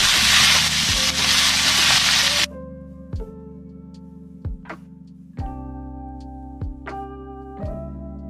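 Masala Maggi noodles sizzle loudly in a pan while being stirred for about two seconds. Then the frying noise cuts off, leaving a quiet tonal background with a series of sharp intermittent taps and clicks.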